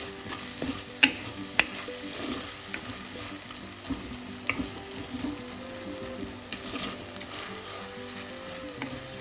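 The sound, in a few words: sautéing fish curry masala in oil in a pan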